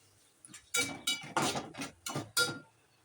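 Spoon scraping and clinking in a pan while tomato and ground masala paste with ginger-garlic paste and chilli powder is stirred, several bursts of close metallic scraping in an irregular rhythm, with no talk.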